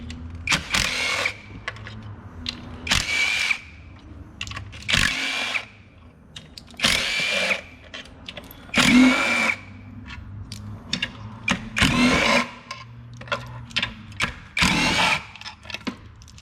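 Close, loud bursts of a power tool spinning out the 10mm valve cover bolts on a Honda engine, several whirring runs of a second or two each separated by short quiet pauses.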